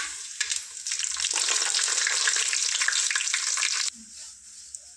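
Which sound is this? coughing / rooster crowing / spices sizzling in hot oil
spices sizzling in hot oil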